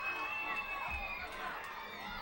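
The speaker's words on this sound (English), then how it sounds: "Crowd gets back into the game now." A crowd at a summer collegiate baseball game between the Newport Gulls and the Manchester Silkworms cheers and shouts in a steady, far-off roar. Children's voices stand out, and a few whoops rise above the noise.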